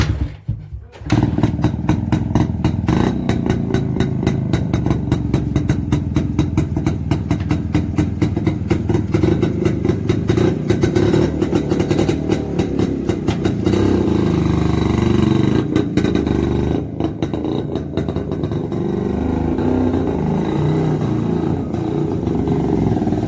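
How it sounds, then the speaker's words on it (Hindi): A restored vintage Yezdi 250 motorcycle on a test drive, its engine running steadily and loudly up close for the whole stretch, with a continuous throbbing exhaust note and some mechanical clatter. "टेस्ट ड्राइव लेके दिखाते हैं हम बाइक की।"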